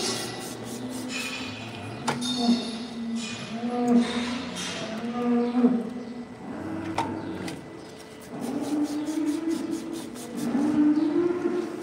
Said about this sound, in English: That's the cow behind, getting impatient.